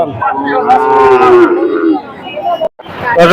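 A calf or bull of the Sahiwal breed moos loudly and close by at a cattle market in Terokhada, Khulna, one long drawn-out call followed by the start of another, with faint market background.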